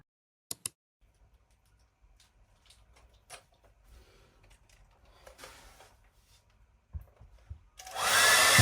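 After a few sharp clicks and quiet rustling, a hair dryer switches on near the end with a loud, steady whooshing roar.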